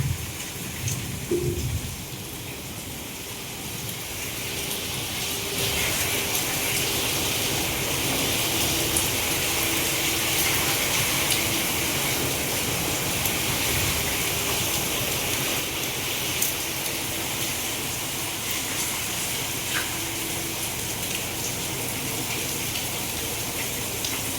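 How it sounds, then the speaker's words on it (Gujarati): Heavy rain during a monsoon storm pours steadily and unbroken for the whole stretch, with a few brief low thumps near the start and no talking. "બહુ વરસાદ આવ્યો છે અત્યારે અહીંયા"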